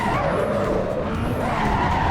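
Tires skid and squeal steadily as a car drifts in the Assetto Corsa Evo racing game, running on a first drift mod; the loud, continuous screech rides over engine roar for the whole stretch.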